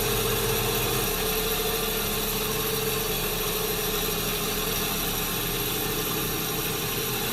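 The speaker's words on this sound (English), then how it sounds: "Then I'll go to a finer compound, a softer wheel and a finer compound." Buffing wheel polishing a ring made from a silver quarter with fine compound, a steady loud motor whine and hum running unbroken throughout, close and alone.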